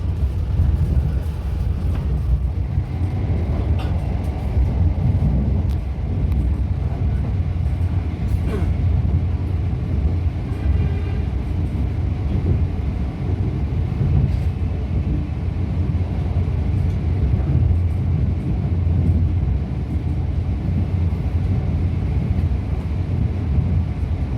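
The KA Blambangan Express passenger train runs along its route in Indonesia as a steady, continuous low rumble heard from on board, with occasional faint clanks and brake hiss over the drone.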